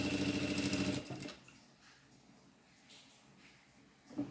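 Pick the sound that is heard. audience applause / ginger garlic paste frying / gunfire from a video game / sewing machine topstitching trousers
sewing machine topstitching trousers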